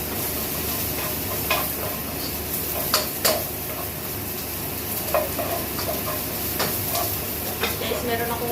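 Onion sautéing in a pan with garlic sizzles steadily and fairly loudly, broken by intermittent scraping strokes of a spatula, with a soft hiss of steam underneath.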